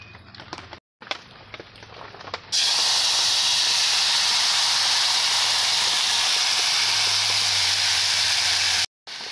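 Ground mustard and chili water poured into hot curry with dried chili tempering, first a few clinks and light frying, then a sudden loud, sustained steamy hiss filling most of the clip before briefly cutting off.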